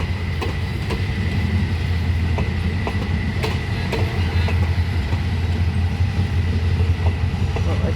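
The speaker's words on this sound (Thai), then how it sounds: "ปู่4010 ค่ะเข้ามาลา เป็นรถดีเซลราง" Diesel railcar number 4010 runs on a Thai eastern suburban line, giving a loud, steady rumble and rolling wheel noise close by for the whole stretch, with faint rhythmic rail clicks.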